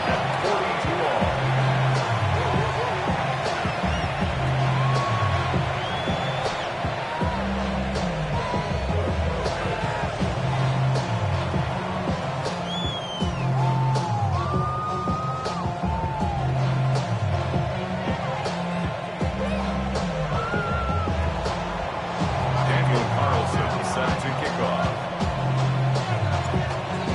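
A football stadium crowd at an Atlanta Falcons vs Carolina Panthers game roars after an extra point ties the score at 42 in the fourth quarter. The dense, sustained crowd noise runs throughout, with scattered yells beneath it.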